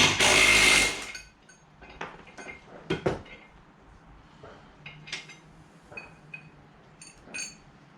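An impact wrench fires one loud, short rattling burst while undoing bolts during a major restoration, followed by scattered metallic clinks and tool handling.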